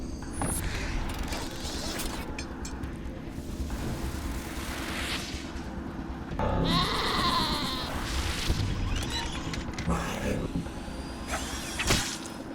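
A goat bleats in the video game Wasteland 2 among mechanical creaks and booms from the game. A brief bright cry stands out midway, and no voice is heard.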